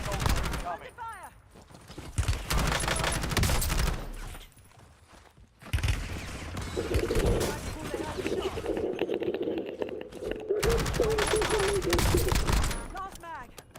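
Rapid gunfire in Warzone with an MP 40 and Merrick 556 loadout, loud dense bursts of automatic shots in several stretches with short quieter gaps, no talk.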